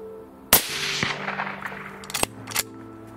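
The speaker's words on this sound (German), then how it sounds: "Mit einem sauberen Blattschuss verendete das Rickenkitz im Knall" A rifle fires at a roe deer fawn during a winter hunt: one sharp, loud report cracks out close by, followed by a fading echo and a couple of fainter sharp knocks.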